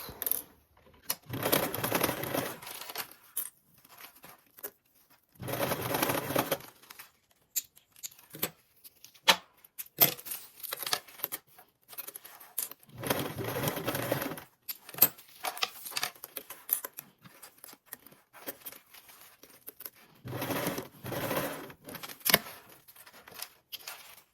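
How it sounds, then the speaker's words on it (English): Sewing machine basting a zipper onto fabric with a 1/8-inch seam allowance, heard in several bursts of rapid stitching separated by short pauses, with light clicks and handling noises in between. "Now you can baste your zipper on with a 1/8 seam allowance."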